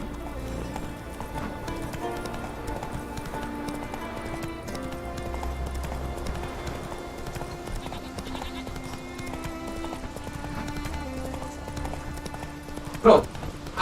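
Roach, the horse in The Witcher 3, gallops with rapid rhythmic hoof clip-clops under game music and combat sounds, and a player talks over it throughout.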